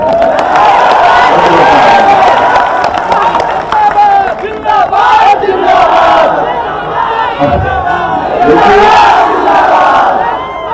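A large crowd at an election rally in Aurangabad cheers and shouts loudly and continuously, with whoops and bursts of yelling rising and falling throughout, close and dense, while a voice is heard amid the noise.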